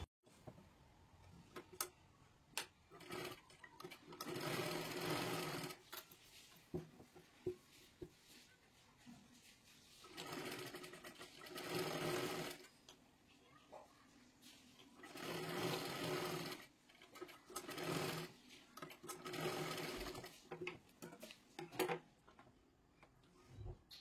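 A sewing machine stitches a size 32 blouse with four tucks, running in several separate bursts of rapid stitching with quiet gaps and small clicks between them, fairly faint overall.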